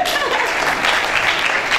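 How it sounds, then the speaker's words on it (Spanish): A university extension seminar audience applauds a visual arts student, a close, dense burst of clapping with faint voices mixed in, continuing without pause. "otro aplauso para Dilma"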